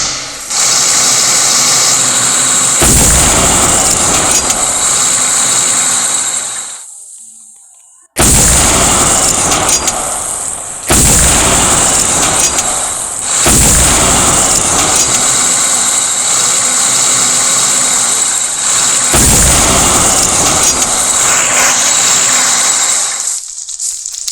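Loud, dense gunfire and explosions from a video game in which a player blows up his own map, with continuous booming blasts in long bursts separated by brief silent gaps.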